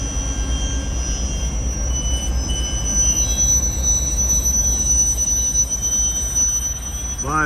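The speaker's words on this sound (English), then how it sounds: "He was using the Caboose as a shoving platform, backing up in the other direction." A BNSF local freight train with a caboose reverses slowly through a rail yard, producing a loud continuous low rumble and rolling rattle with faint metallic tones and a brief wheel squeal near the end.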